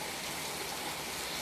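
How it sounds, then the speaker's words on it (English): Heavy rain on a stormy day, a dense, even hiss of downpour that holds constant for the whole short stretch with no talking. "heavy rains"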